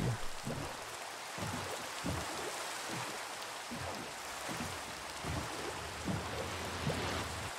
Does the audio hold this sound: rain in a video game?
yes